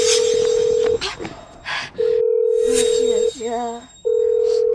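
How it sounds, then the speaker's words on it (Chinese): A telephone tone repeats in long steady bursts as a call rings out unanswered. Someone speaks and sobs between the tones, in a family drama about a critically ill younger brother. "爸爸怎么不接电话？"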